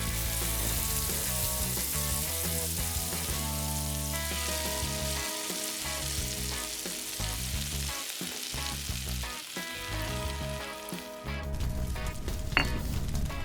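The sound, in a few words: crab frying in oil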